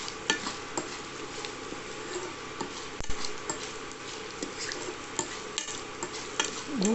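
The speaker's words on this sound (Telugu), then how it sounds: "బాగా కలపండి." Broad bean curry with curry leaves stirred in a pan, repeated ladle scrapes and light taps against metal over a soft background sizzle, no voices.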